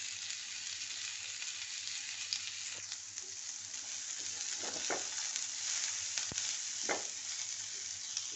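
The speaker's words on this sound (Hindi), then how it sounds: "अब बाकी ये इसमें डाल के और तलना है।" Pumpkin peels fry with garlic and seeds in a pan over medium heat, giving a steady, close sizzle with a few soft stirring scrapes and clinks along the way.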